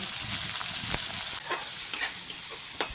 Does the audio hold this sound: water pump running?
no